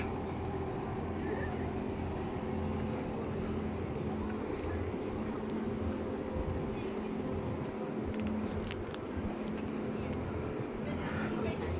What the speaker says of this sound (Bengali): এই স্পিড বোটগুলো চলতেছে এখানে, সি বোট